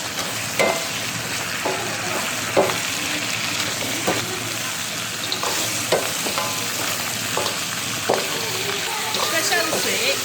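Lamb trotters sizzle steadily as they are stir-fried in a wok, with a constant loud frying hiss and repeated scrapes and clacks of a spatula against the pan at close range.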